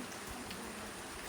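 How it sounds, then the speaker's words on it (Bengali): Soft, steady patter of rain falling continuously, a faint even hiss with no voices. "বাইরে ধীরে ধীরে বৃষ্টি পড়ছে"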